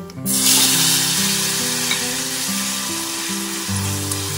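Tomatoes drop into hot oil already crackling with cracked cardamom and spices, then get stirred for a small-prawn dish. A loud, steady sizzle fills the whole stretch with no voices.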